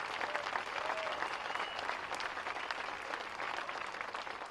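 A gathering at the Don James statue dedication applauds Bob Rondo on his retirement, a sustained, moderately distant wash of many hands clapping with scattered sharper claps and faint voices.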